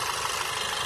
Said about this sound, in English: this engine started to go a bit rough